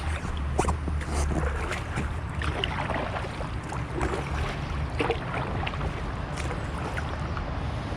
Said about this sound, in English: Time to get paddling, let's go.